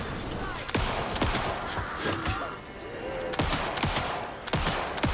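Gunfire from firearms shooting at an enemy in the video game Alan Wake 2, a rapid series of sharp loud shots in uneven bursts, near and punchy over a noisy game backdrop.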